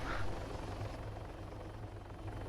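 A helicopter in the Project Absolution video game thumps steadily with a continuous low rotor chop, faint and even throughout, with no voices.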